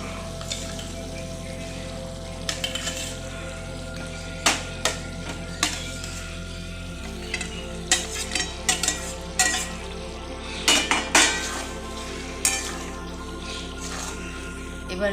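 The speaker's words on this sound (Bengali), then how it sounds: "এবার মিডিয়াম দিয়ে পটলের সঙ্গে মশলাটা ভালো করে আমি কষতেই থাকবো।" Fried pointed gourd pieces are stirred into a tomato masala in oil over medium heat. A soft, steady sizzle runs underneath, with repeated sharp clicks and scrapes from the spoon against the pan.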